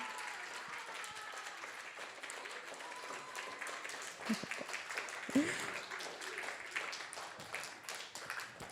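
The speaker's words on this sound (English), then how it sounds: "A big round of applause" Audience applause at a children's annual day and graduation celebration at a Vedic academy, steady, fairly quiet clapping heard from a distance, with a couple of sharper knocks near the middle and faint voices underneath.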